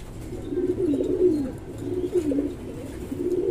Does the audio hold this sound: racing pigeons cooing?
yes